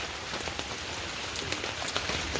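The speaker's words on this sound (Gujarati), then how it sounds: "આ બધો વરસાદ ચાલુ બંધ જ થયો નહીં ક્યાંય" Steady rain falls during an all-day downpour in Gujarat, a dense even hiss of drops on surfaces with scattered louder patters, close and continuous, no voices.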